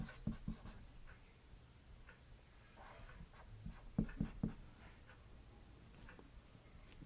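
Chalk or marker scratching across a classroom board during a chemistry lesson, several short taps and strokes in a quiet room, faint and close.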